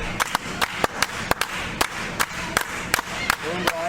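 Wrestling event crowd clapping in rapid, uneven bursts with a continuous roar of cheering beneath, loud and close throughout, with a voice briefly rising over the din near the end.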